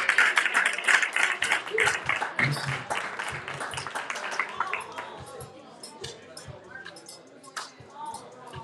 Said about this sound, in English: Give it a round of applause for y'all